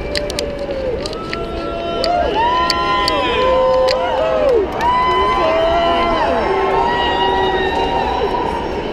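A crowd at a Fan Fest Expo fan convention cheers and whoops loudly in an indoor hall, with shouted voices rising and overlapping throughout and people talking.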